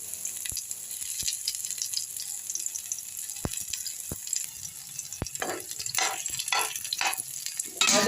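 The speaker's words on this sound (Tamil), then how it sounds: "சின்ன வெங்காயம் பொடியாக அரிஞ்சிட்டேன் இது நல்லா வந்து ப்ரௌனாக வதங்கிட்டோம்" Finely chopped shallots fry in a little oil for a banana stem and peanut chutney tempering, with a soft, steady sizzle broken by sharp taps of a stirring spoon.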